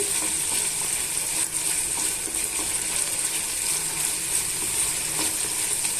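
Flat bean masala frying in a pan over a medium flame, an even, continuous hiss and sizzle that holds steady throughout, close and fairly loud, with no voices.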